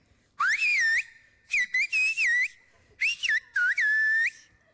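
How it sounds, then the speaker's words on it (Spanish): Four bursts of clear, high whistled language with rising and falling pitch glides, loud and close, in a speech-like rhythm separated by short pauses. "Ahora tú lo vas a decir silbando."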